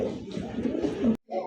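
Low, throaty cooing from Lahori pigeons with feathered feet, repeated for about a second, then a short break and another burst of cooing, set against steady background noise.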